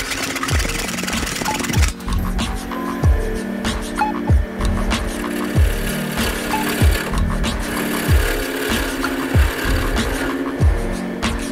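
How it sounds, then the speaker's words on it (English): A hand saw cuts a piece of wood off a workpiece on a lathe, with repeated rasping strokes in a steady back-and-forth rhythm, about a dozen close strokes running throughout. "Just get a saw now and just cut that bit off."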